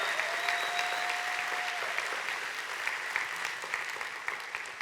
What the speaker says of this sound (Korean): 영광의 박수를 올립니다